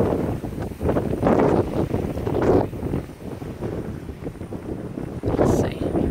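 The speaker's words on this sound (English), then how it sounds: "Still got some wind." Strong gusty wind buffets the microphone outdoors in the aftermath of Hurricane Irma, rising and falling in loud rumbling surges, with someone speaking briefly.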